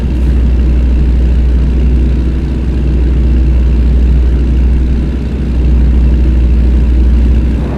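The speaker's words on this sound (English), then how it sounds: "the W900 barrels forward, holding steady under the weight of the load, the roar of the engine echoing across the highway" A Kenworth W900 truck hauling a heavy load on the highway gives a loud, steady low engine drone, a continuous deep rumble with slight swells and no voices.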